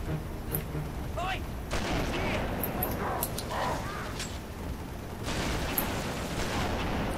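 Bursts of gunfire and blasts from Halo 3 combat crack and boom in a dense, loud battle, with sharp shots coming irregularly over a continuous roar.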